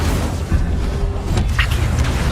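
The Incendio fire spell from Hogwarts Legacy lands as a dense, loud whooshing burst with a low rumble, its flame roar lasting a couple of seconds.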